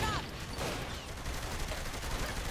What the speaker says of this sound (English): I'm just standing in the middle of his gunfire?